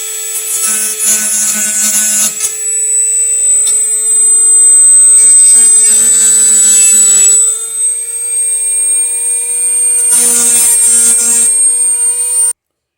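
A high-pitched rotary tool with a round sanding bit whines steadily while grinding against a P80 pistol frame's guide rails in short bursts, the motor tone holding constant between contacts.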